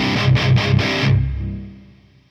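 Electric guitar played through a Diezel Herbert preamp module with a small amount of delay and reverb: four distorted chugging hits in quick succession, then the chord rings out and decays with a faint reverb tail.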